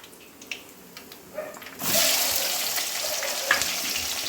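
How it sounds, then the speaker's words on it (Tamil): Curry leaves, shallots, tomato and slit green chili hit hot oil for a fish curry, launching a loud, close sizzle about two seconds in that crackles steadily to the end after a quieter start, with no talking. "போட்டோடனே கொஞ்சம் கருவேப்பிலை பொரிஞ்சோடனே கொஞ்சம் சின்ன வெங்காயம், தக்காளி, ஒரு பச்சை மிளகாவை கீறி வச்சுருக்கேன்."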